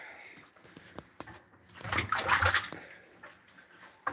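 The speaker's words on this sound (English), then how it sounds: "Nothing like watching water fill in the tank, huh?" Water pours into a tank being float-tested, a close rushing, sloshing stream that swells for about a second in the middle, with faint handling noises around it.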